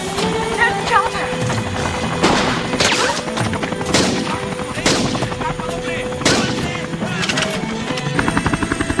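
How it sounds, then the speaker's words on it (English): Repeated gunshots crack through a chaotic jungle-style shootout, sharp bursts spaced a second or two apart over a continuous rotor-like rumble, with voices shouting in between. "¡Están disparando!"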